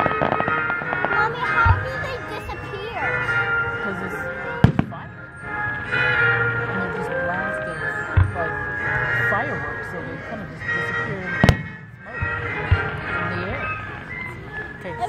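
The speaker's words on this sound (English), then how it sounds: "look at these fireworks" Fourth of July fireworks going off with occasional sharp bangs over a continuous wash of crackle and ringing tones, loud and fairly close.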